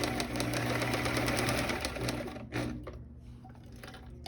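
A sewing machine stitches fabric for a 3D mask, running with a steady loud mechanical whir for over two seconds, then slowing and fading into quieter stops.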